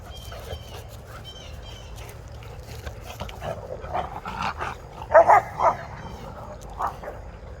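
Several dogs bark in scattered bursts at a moderate distance, with a louder cluster of barks toward the end over a low background rumble.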